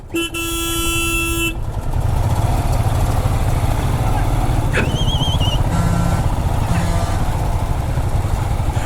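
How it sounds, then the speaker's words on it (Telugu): Heavy highway traffic rumbles loudly as a lorry reverses nearby, with a long sustained horn blast at the start followed by a short rising horn toot and engine drone throughout. "ఆ లారీ మళ్ళీ వెనుకకు వచ్చేస్తుంది."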